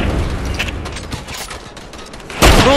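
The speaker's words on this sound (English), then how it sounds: "I thought he was shooting you" Rapid bursts of gunfire in Fortnite, loud and close, with a dense crackle of shots throughout and a heavier blast near the end.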